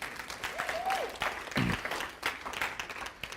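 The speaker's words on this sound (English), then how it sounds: "Clap." A seated audience at a networking and branding talk clapping for a man in the room, uneven rounds of applause with a few sharper individual claps.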